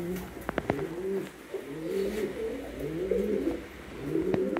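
Pigeons coo repeatedly in a home loft where eggs are hatching, a steady overlapping chorus of low, throaty calls close by, with a few sharp louder notes near the start and end.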